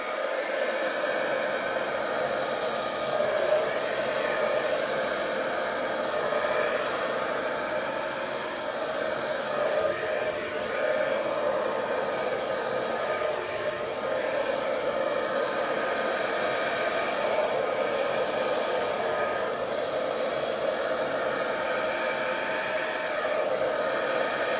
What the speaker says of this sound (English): So I'm going to use my hairdryer.